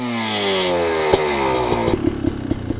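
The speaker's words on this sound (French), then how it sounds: "Allez, on va vous démarrer la bête. Vous entendiez un coup le bruit du deux temps." A GasGas 300 two-stroke supermoto, kick-started, runs loud and close with a buzzing, crackling engine note and a few sharp pops as it settles.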